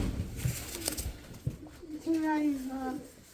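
A three-year-old domestic pigeon coos in a low, rolling call during pairing, the coo swelling near the end with softer sounds and voices in the background.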